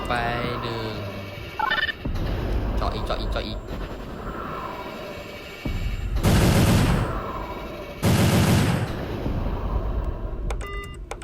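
Bursts of rapid Roblox gunfire and heavy blasts crackle loudly between quieter stretches, with sharp metallic clicks and electronic effects.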